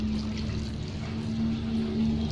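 Water pours steadily onto a heap of homemade compost in a continuous close, gentle trickling wash with a faint hum underneath and no one talking.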